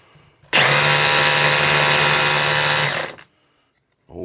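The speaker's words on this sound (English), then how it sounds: "Got it in the hammer drill position." A Milwaukee M18 cordless hammer drill in hammer mode runs loud and close for about two and a half seconds with a steady, buzzing hammering rattle, then stops abruptly before a brief restart.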